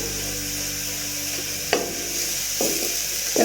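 Soya chunks sauté in a pan with a soft continuous sizzle, broken by a few scraping stirs of the spoon; a steady hum runs underneath.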